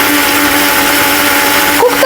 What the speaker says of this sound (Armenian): Կոկտեյլ սարքեմ, բլենդերով կխփեմ։